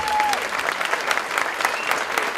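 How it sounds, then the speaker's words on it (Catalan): Applause fills a hall at an anniversary and awards event honouring a former board, dense steady clapping from a crowd that runs throughout, with a faint voice briefly audible at the start. "vull demanar un fort aplaudiment per ella i per la Junta antiga"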